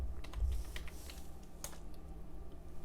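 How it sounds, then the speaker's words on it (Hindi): A computer keyboard clatters as a username is typed at a Linux terminal, a quick close run of soft key taps over a low room hum, with no one speaking. "अच्छा यूजर नेम डालेंगे रमेश,"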